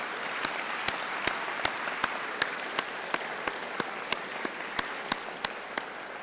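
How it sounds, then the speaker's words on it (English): Applause from a crowd at an American Legion Boys' State New York event, steady and moderately loud, with evenly spaced sharp clicks ticking through the clapping. "Why don't we give them a round of applause?"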